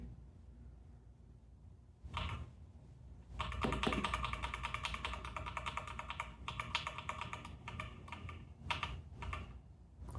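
A computer keyboard's F12 key is tapped over and over while a PC reboots into its boot menu, quick close clicks in uneven bursts, with no talking.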